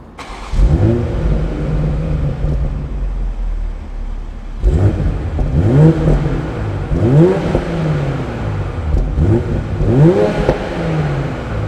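A BMW Z4 M40i (G29) with an Eventuri intake pulls away on a test drive, its engine note rising in a strong run, easing, then climbing through several repeated acceleration sweeps, loud and close with no talking.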